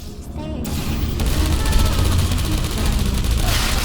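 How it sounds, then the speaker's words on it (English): Turrets fire in the video game Portal Reloaded, a loud, dense and continuous barrage of rapid shots that fills the whole stretch with no pause. "you won't encounter any turrets between the test chambers. Except for these ones."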